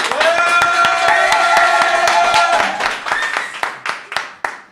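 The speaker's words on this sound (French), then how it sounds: "je propose qu'ils applaudissent pour qu'on les entende" A room of trainees applauds in a public venue: a dense burst of hand claps over a steady ringing tone, then the clapping thins into a few scattered, separate claps that fade out.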